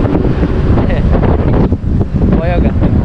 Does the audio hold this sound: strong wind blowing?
yes